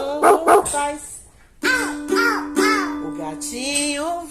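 A singing voice imitates a dog's bark in a children's animal-sounds song, giving a few short, loud yaps over light musical backing.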